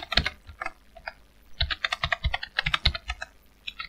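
Computer keyboard typing up close, a fast uneven flurry of crisp key clicks with brief pauses, no speech.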